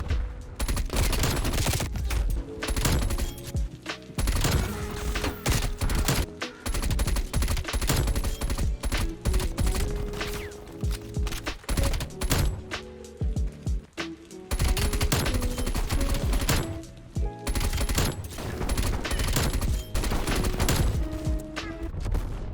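Dense, continuous bursts of KSP 45 burst-fire SMG gunfire in Call of Duty Black Ops Cold War, loud and near, with rapid repeated volleys, game effects and brief gaps running throughout.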